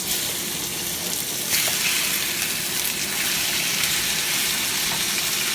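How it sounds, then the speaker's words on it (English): Chicken for fajitas sizzles in hot oil in a pan, with a fan running nearby. The frying hiss is steady and close, with no talking. "You've got to love that sizzle noise."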